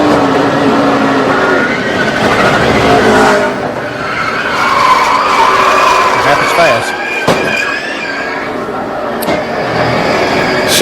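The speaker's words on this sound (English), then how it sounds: "watch Matt Kenseth in that 17 slide through" Matt Kenseth's No. 17 NASCAR Sprint Cup car sliding at Talladega in 2011: roaring engines and squealing, skidding tires in a loud pack of race cars, with a commentator talking over it throughout.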